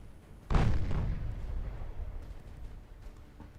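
Warship gunfire in the naval battle game Ultimate Admiral Dreadnoughts: a single loud, deep boom strikes sharply, then rolls and rumbles away over a few seconds, with low background noise and no talking.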